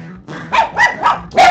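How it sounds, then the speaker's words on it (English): Dogs in a room bark in a quick run of about four loud, close, sharp barks with a growly edge. "Sorry about the dogs, folks."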